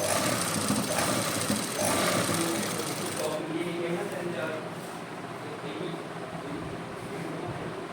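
Sewing machine stitching lace onto the edge of a suit: a steady, fast mechanical whirring runs continuously and close by, easing slightly in the second half, while a person talks over it.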